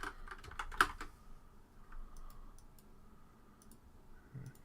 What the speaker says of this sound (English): Just typing the location into the server destination